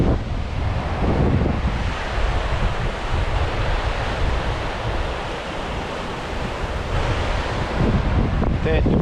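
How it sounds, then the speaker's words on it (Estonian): Strong northwest wind and breaking waves on a lake shore during a day of sea trout fishing, a steady, loud roar of surf and buffeting wind noise on the microphone that continues without a break and carries no talk. "Tugev loodetuul käib siin peale ja laine on päris korralik."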